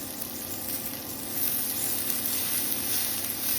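A batch of cabbage frying in a pan gives a dense, steady sizzle and hiss up close, swelling slightly louder midway, with no talk.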